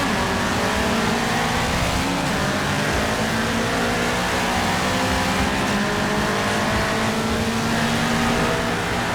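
Toyota AE86, GT86 and GR86 cars accelerate hard in a quarter-mile run, loud continuous engine howl with rising revs and gear changes, several engines blending together, no voices.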